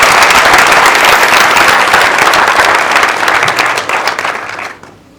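A room of students bursts into loud, sustained applause for Shweta after a film screening, dense clapping holding steady before fading out in the final second.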